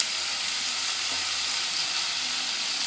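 Oil heating in a pan before puri is fried, a steady, even sizzle and hiss close by with no talking.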